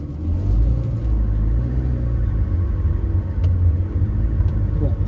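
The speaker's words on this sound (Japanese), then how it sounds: "エンジンのかかりがツンってかかるし、アイドリングがめっちゃ静かなんですよね" A Ferrari 360 Modena engine idles with a steady, low rumble, smooth and fairly quiet, holding an even level throughout.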